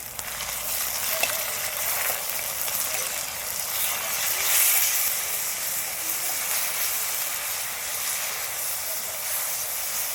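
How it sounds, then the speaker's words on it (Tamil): Ginger garlic paste sautés in a pan with a constant loud hiss and sizzle and a faint scrape or two near the start. "நல்லா வதக்கிடலாம்."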